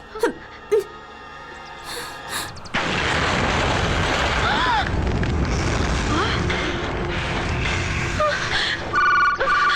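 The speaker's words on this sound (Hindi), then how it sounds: "अभी जो धमाका बाहर हुआ वो घर के अंदर भी हो सकता था।" A loud explosion erupts outside a house in an action film scene, a sudden sustained roaring blast after a few brief sounds, with a short ringing tone near the end.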